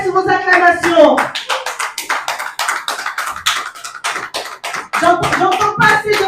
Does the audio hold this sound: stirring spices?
no